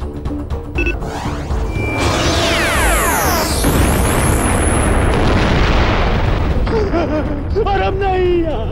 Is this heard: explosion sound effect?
yes